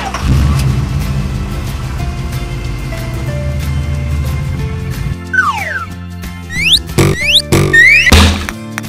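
A toy van sound effect plays steadily: a continuous engine-like rumble for about five seconds, then a sharp drop and a run of falling and rising whistles punctuated by loud knocks and thwacks.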